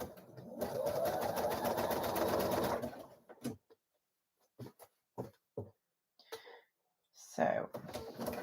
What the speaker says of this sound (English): Just so that I can guide the fabric as I'm sewing.